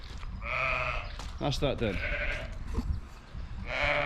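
Lambs of a Clun cross Charolais or Clun Charolais cross Texel breeding bleat loudly and close on a farm, several overlapping calls at the start and end, with someone talking briefly in the middle.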